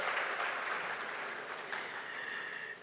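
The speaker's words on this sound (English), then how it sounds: "Let's give a round of applause again to the SGF" Applause from an audience at a public lecture marking Nigeria's democracy anniversary, steady and fairly faint across the whole stretch with no voices on top.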